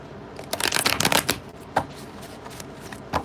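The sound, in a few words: shuffling cards for a psychic reading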